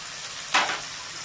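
Potatoes and long-sliced onions fry in a pan, a low background sizzle broken by one brief, louder burst of spitting midway through the short moment.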